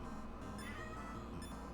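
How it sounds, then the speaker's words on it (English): A pet cat meows faintly in the background of a room, a few soft, drawn-out cries under a steady electronic hum. "my cat is meowing"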